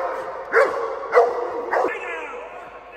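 A police dog barking in training during a business-intruder search scenario, three loud close barks about half a second apart.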